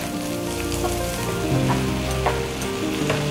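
Chopped onion, ginger and garlic sizzling in a hot frying pan, a steady close crackle and hiss with occasional stirring, no talk.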